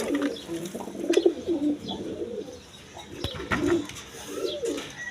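Gorra colour pigeons, kept in pairs with chicks, give repeated throaty coos close by, several rolling calls in short bursts with brief pauses between.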